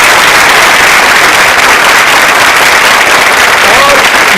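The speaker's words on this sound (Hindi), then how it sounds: "ये जो तालियां बजाई गई है ये हमारे प्रिय दर्शकों के सम्मान में" Loud, dense audience applause at an anniversary quiz show held at a women's polytechnic, a sustained wall of clapping that stays at full strength without break.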